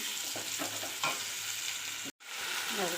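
Spices with potatoes and beans being fried and stirred in a pan for a Bengali fish curry, a dense continuous sizzle with soft scraping strokes and a brief drop-out near the end.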